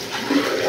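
A miniature 1983 Norris wall-hung toilet flushes in a short rushing burst of water, close and fairly loud, with no voices.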